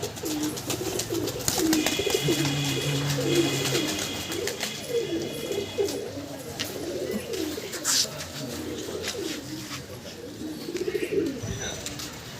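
Pigeons kept as high-flying birds coo in low, rolling phrases through most of the stretch, with other birdcalls and chirps scattered over a steady outdoor background.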